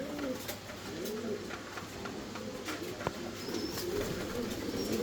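Pigeons of an improved breed coo in low, rolling calls that repeat through a steady background murmur, with no talking.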